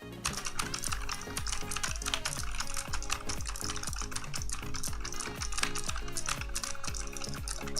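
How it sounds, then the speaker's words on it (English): Fast, steady typing on a Razer Huntsman Mini keyboard, dense clacking keystrokes close to the microphone in a continuous run with no talking. "the Razer Huntsman Mini is definitely louder than the Roccat Vulcan in the keyboard test"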